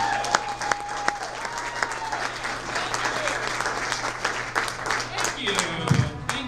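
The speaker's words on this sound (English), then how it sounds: "Big round of applause for Matt Collins" Audience applause for a stand-up comic being introduced at a comedy show, a dense, steady wash of clapping from a crowd that stays loud throughout with no talk over it.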